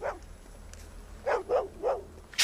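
A dog in a film scene gives a few sharp barks, one early and then a quick cluster of three or four near the end, fairly close over a quiet background.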